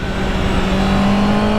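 A Honda CB650R four-cylinder motorcycle engine hums loudly and steadily while riding, a smooth continuous drone with a slowly rising pitch, no talking.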